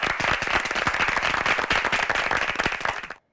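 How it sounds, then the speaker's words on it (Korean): Applause from an audience at a Korean high-school debate competition, a dense burst of clapping that carries steadily for about three seconds and then cuts off abruptly. "여러분, 정예은 양을 박수로 함께해 주시죠"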